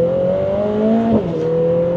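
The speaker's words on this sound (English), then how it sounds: "the turbo noise is fun" Lotus Emira First Edition under way, its engine note climbing and shifting with a whirring turbo spooling over the drone, then a quick change in pitch mid-run before it settles, heard close from inside.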